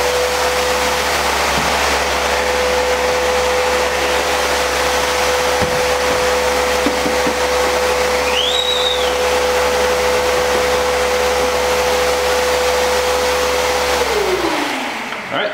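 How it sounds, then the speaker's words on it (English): A vacuum pump on a serigraphy printing table drones steadily and loudly with a constant hum for about fourteen seconds, then winds down at the end. "I'm going to hit the vacuum pump and pull a couple of proofs"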